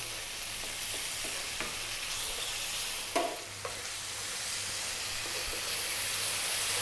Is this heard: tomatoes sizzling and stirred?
yes